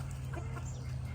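Meat chickens on a small farm cluck faintly a few times over a steady low background hum.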